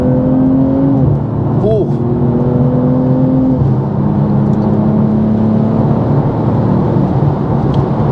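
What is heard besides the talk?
BMW M240i G42 kick-down acceleration, engine revving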